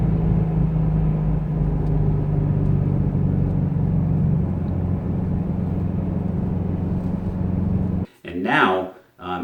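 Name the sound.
Ford Mustang GT350 engine revving under acceleration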